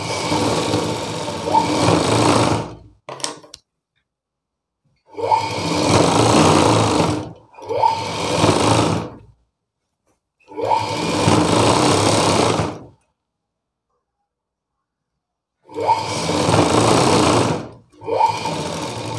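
A sewing machine stitches a folded-open seam on a blouse piece in repeated runs of steady, rapid mechanical whirring, each burst lasting a couple of seconds and separated by silent pauses.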